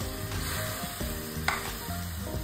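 Grated pumpkin and cucumber sizzle in ghee in a wok with a steady frying hiss, punctuated by a few stirring scrapes and light clinks of a spoon.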